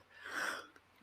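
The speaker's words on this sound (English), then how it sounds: "why am I sneezing so much?" A single short sneeze, faint and fairly close, with a brief breathy burst and quiet afterward.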